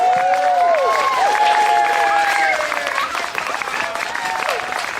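Audience applause and cheering for a live band at an outdoor Hispanic Heritage Month celebration in a park, a steady dense wash of clapping with whoops, carrying under musical tones and talk throughout.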